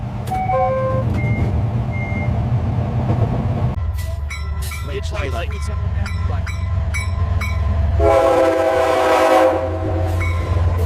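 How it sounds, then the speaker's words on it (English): A locomotive air horn sounds loudly over a steady low diesel rumble, with several sustained chordal blasts near the end and scattered short tones and beeps earlier, heard close from the cab. "Horn installation mounts powerful air horns, providing audible warning capability."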